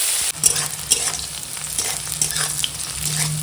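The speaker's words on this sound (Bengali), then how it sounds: "ওই মাছ ভাজার তেলে এখন দিয়ে দেবো পেঁয়াজ কুচো আর কাঁচা লঙ্কা চেরা দিয়ে একসঙ্গে ভেজে নেবো" Chopped onion and slit green chilies sizzle loudly in oil left over from frying fish, with stirring clatter over a steady crackle and no talk.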